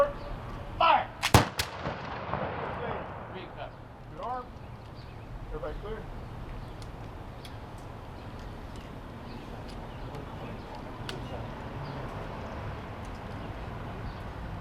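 A musket volley fired at a Battle of Fort San Carlos historical reenactment commemoration bursts out as a sharp, loud crack early on, then gives way to a fading echo and quieter outdoor ambience.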